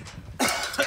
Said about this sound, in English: There's my cough from the chemtrail.